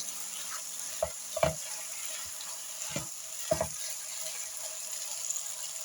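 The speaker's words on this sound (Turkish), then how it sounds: "Evet arkadaşlar patatesleri kavurarak iyice pişirdim." Potatoes fry in a granite pan with a soft, steady sizzle, punctuated by a few sharp scraping knocks from stirring.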